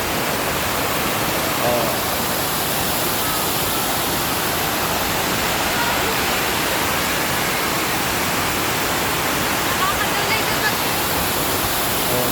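A whole river rented out for bathing rushes in a loud, unbroken broadband roar of flowing water, with a brief voice heard over it.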